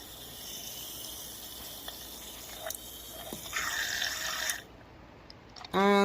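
A small irrigation pump controlled by a humidity sensor whirs and water trickles into a plant pot for a few seconds, then stops, followed by a brief clatter.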